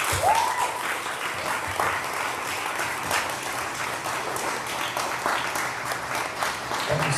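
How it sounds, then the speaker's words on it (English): An audience applauds speakers and storytellers at a Japantown community event, steady moderate clapping from a room of people with a brief voice or whistle near the start. "let's give one more round of applause for all of our speakers and storytellers and folks tonight"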